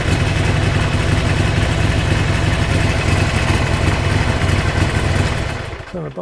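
A Harley-Davidson-type motorcycle engine idles loudly and steadily up close with a throbbing low rumble, then cuts off in the last half second.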